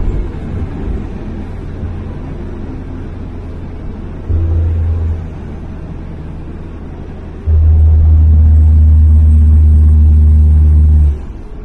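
Old Cummins-powered Sweptline pickup running at full throttle with no turbo boost, heard from inside the cab: a steady loud diesel drone that swells into two heavier, deeper roaring pushes, the second held for several seconds.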